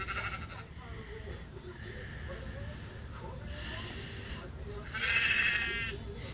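Sheep in the video game Minecraft bleat several times over a constant background hum, with a louder bleat near the end; a person talks over the sounds.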